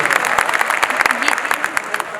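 An audience claps steadily and densely throughout, with a voice heard under the applause.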